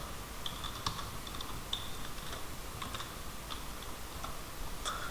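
Typing code on a computer keyboard: steady runs of light, crisp key clicks at an uneven rhythm over a soft background hiss, close and moderately quiet, with no voices.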